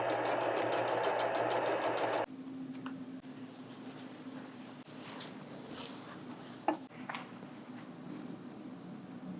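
A sewing machine stitches a Liberty fabric summertime quilt, running in a fast, even mechanical rattle for about two seconds before stopping, leaving quiet room sound and a few soft handling taps.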